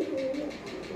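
An old domestic pigeon coos steadily in a low, continuous murmur, close and unbroken throughout.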